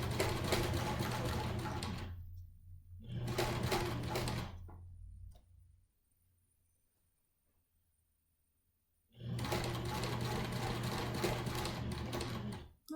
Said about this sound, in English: My machine's making some funny noise because it's going through so many layers